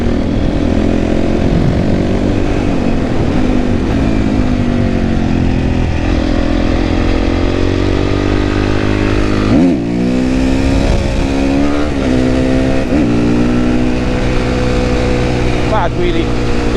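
Honda CRF450R supermoto motorcycle engine revving hard during a wheelie, a loud, close, continuous single-cylinder roar with rising and falling pitch and a brief dip midway, as voices talk underneath.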